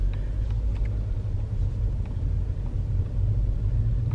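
A car driven slowly by a learner driver in circles gives a steady, low engine rumble from inside the cabin, continuous and moderately loud, with faint small rattles.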